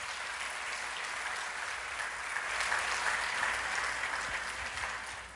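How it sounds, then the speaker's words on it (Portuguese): A church congregation breaks into warm, continuous applause, a dense wash of hand claps that swells slightly midway and stays steady without speech on top. "Aplauda o Senhor Jesus por isso."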